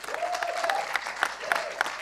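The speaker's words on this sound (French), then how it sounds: "Vous pouvez vous applaudir bien fort d'ailleurs" Audience applause backstage at a singing-contest semi-final at Diagora Labège, a short burst of clapping at moderate level with a faint tonal sound and some voices underneath.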